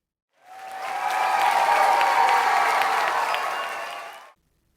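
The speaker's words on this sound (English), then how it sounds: "let's give him a round of applause" A loud round of applause from a crowd swells quickly, holds as dense steady clapping for about four seconds, then fades out, with no voices over it.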